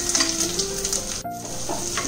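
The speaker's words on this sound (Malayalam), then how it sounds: "ഈ ഉള്ളി നന്നായിട്ട് വരട്ടിയെടുക്കണം." Onions sizzle steadily in coconut oil in a clay pot with a little mustard seed, a close, continuous frying hiss with faint stirring scrapes and a brief dip midway.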